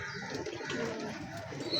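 Allahabadi Kalchira pigeon, a big-sized male, cooing close by in soft low repeated calls that carry through the whole short stretch with steady background noise.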